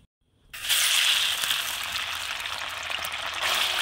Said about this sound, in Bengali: তো তেলটা আমার গরম হয়ে গেছে। এইবারে আমি চালতাটা দিয়ে দেবো।